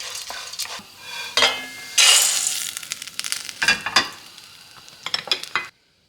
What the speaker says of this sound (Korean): 한 분쯤 볶아주세요.